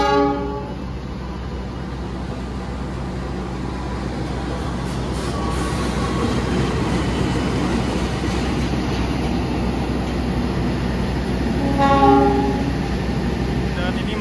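Turangga passenger train rolling past at speed, a steady loud rush of wheels and rail noise with a brief horn-like tonal burst near the end, heard from a station crowded with holiday travellers.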